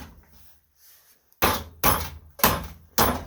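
A table saw fence with router attachment is hammered into place in a workshop: four sharp, loud thuds about half a second apart, close up, after a quiet moment.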